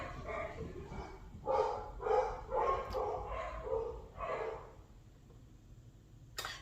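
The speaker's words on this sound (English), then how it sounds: "don't mind my dogs. They're going to go nuts for a second." Several dogs bark and yip in a row of loud, overlapping bursts over roughly five seconds, close by, then fall quiet with a brief final yelp.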